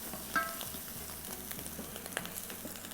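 Spices sizzling and popping in a hot pot, a steady low frying hiss broken by a few small sharp pops, close and fairly quiet.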